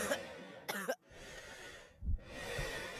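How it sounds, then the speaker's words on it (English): A person with consumption, or tuberculosis, coughs harshly several times in close, wet, raspy bursts, with ragged breathing between the bouts. "People cough up blood"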